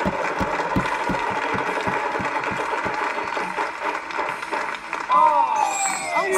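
The Wheel of Fortune game show wheel spinning, with a steady, fast ticking of its pegs that gradually slows, loud and close, under studio chatter and a brief musical sting near the end.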